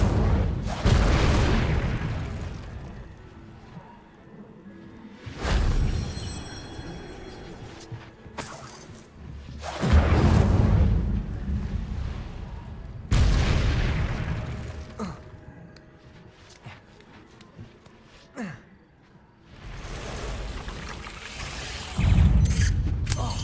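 Incendio fire spells in the Hogwarts Legacy video game blast out in a series of loud, roaring whooshes, about five bursts spaced several seconds apart, each fading before the next.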